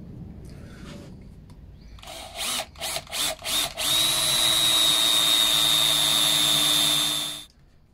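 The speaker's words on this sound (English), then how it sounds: "So I'm going to drill it and squeeze some in like I did before." A power drill stutters in a few short bursts, then runs steadily with a high whine for several seconds before stopping, drilling into a loose joint of a wooden chair.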